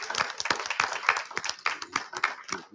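A school audience breaks into a round of applause for Bill, a man being thanked at a community gathering; many hands clap densely and steadily throughout, fairly close and filling the room.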